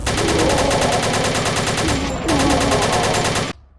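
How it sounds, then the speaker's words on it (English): Rapid automatic gunfire from a starting rifle in the video game Putrefaction, a loud, fast stream of thin shots with a brief break midway before resuming and cutting off abruptly. "The starting rifle, which looks more like a submachine gun, is your basic machine gun found in classic shooters, but it sounds weaker than a squirt gun."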